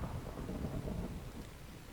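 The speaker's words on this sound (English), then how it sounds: "Is it really raining again?" Steady rainfall with a low rolling rumble of thunder in a Minecraft modpack survival world, a continuous wash of sound with no voices.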